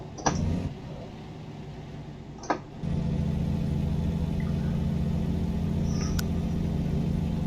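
A truck engine in the video game American Truck Simulator: a couple of sharp clicks, then the engine starts and settles into a steady, even idling drone that continues to the end.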